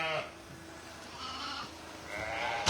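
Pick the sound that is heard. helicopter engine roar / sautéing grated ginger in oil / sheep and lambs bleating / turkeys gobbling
sheep and lambs bleating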